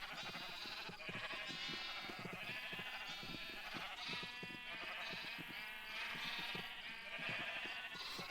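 Sheep in the video game Ancient Kingdoms bleat over and over in a dense, steady chorus that runs the whole time, loud and close, with no talk over it.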